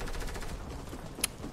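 Gunfire in the video game Fortnite, a dense steady rattle of shots running throughout with one sharper, louder crack near the end, heard alone without talk.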